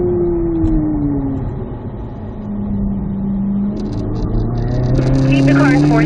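Chevrolet Corvette C8 Z06 on a track shifting up into 4th gear, the loud engine dropping in pitch at the change and then climbing again, with a driver talking over the engine noise.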